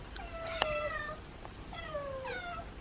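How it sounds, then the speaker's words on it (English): Feral kittens meow back and forth, one high call after another with a pause between them, close and clear over a faint background hiss. "They're meowing to each other."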